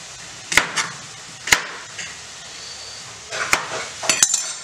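Fish being chopped pahadi style with a knife on a board: sharp, loud chops land singly about a second apart, then a quicker cluster of cuts near the end, with quiet kitchen background between.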